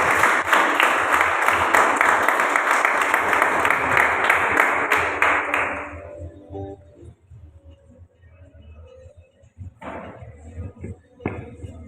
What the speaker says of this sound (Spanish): Denle un fuerte aplauso a Dios por la vida de este varón